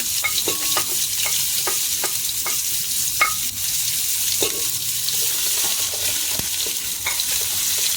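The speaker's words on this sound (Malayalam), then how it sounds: "ഒരു വലിയ സവോള ഞാൻ ചെറുതായിട്ട് അരിഞ്ഞു വെച്ചിട്ടുണ്ടായിരുന്നു ഇതാ കണ്ടോ ഇതുപോലെ ഇത് നമുക്ക് അതിലേക്ക് ഇട്ട് കൊടുത്ത് ഒന്ന് ഇളക്കാം" Chopped large onion hits hot oil in a pan and is stirred for a Kuwaiti chicken majboos, giving a loud, steady sizzle with scattered scraping strokes of the spoon throughout.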